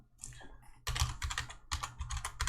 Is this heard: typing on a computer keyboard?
yes